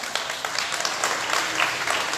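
Steady applause from an audience at a municipal public event with a mayor present, dense overlapping clapping that holds at an even level for the full two seconds.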